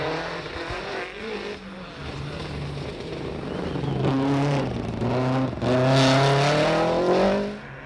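A Castrol rally car on a Saturday stage of the 1995 Cork 20 International Rally, its engine droning steadily then rising into loud, close revving passes with strong harmonic sweeps before fading at the end.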